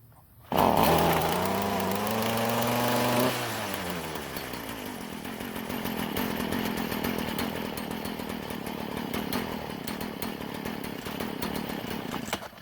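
A small two-stroke string trimmer engine roars to life on half choke, revving loudly with a high, buzzing whine for a few seconds before dropping into a rougher, unsteady running note close by.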